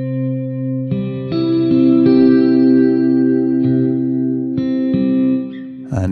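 Ambient cinematic guitar from a Kontakt instrument rings out with hall reverb: sustained chords struck several times, each swelling and decaying into a long, spacious wash, loud and alone.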